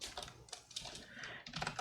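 Python code being typed on a computer keyboard: rapid, quiet, close keystrokes clatter steadily with no talking.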